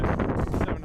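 Strong wind buffets the microphone near a mountain summit on a cold day in Scotland, a loud, gusting roar filling the whole short moment.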